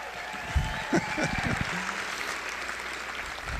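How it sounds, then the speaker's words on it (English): Audience applause for host Tony Snow at a stand-up comedy evening, a moderate spread of clapping with a few louder thumps and a voice briefly over it. "a round of applause for our host tonight, Tony Snow"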